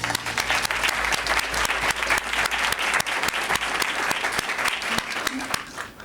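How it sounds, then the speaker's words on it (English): An awards-ceremony audience claps steadily for an honoree at a 2003 event, dense and sustained applause filling the room for about six seconds, close and fairly loud. "Give Ann Wu a round of applause."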